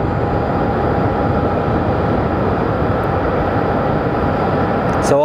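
A Delta Airlines jet at Sky Harbor Airport gives a loud, steady broadband roar that fills the whole stretch without letting up, with no speech.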